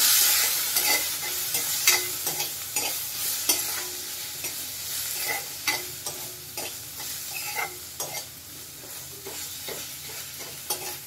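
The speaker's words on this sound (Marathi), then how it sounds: "हा टोमॅटो सुद्धा त्याच्यात घालून आपण व्यवस्थित परतून घेऊया।" Chopped tomatoes sizzle as they are stirred and sautéed in a pan for a Malwani cashew masala, with a steady frying hiss broken by regular spoon scrapes and clinks, close and continuous with no talking.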